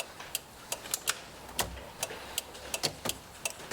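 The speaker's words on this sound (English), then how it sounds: "the blinker noise is actually the flasher can relay clicking" A car's flasher relay makes irregular dry ticking clicks, faint and close, repeating roughly every few tenths of a second with a quiet hum underneath.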